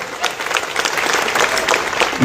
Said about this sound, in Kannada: ನನ್ನ ಜೋರಾಗಿ ಚಪ್ಪಾಳೆ ಹೊಡೆಯಲಿ